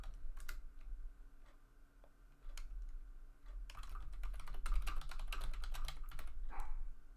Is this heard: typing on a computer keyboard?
yes